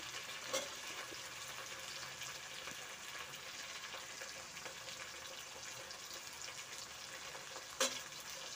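Chopped onions frying in a pan for vangi bath give off a steady, even sizzle from start to finish, broken by a couple of sharp clicks. No one speaks.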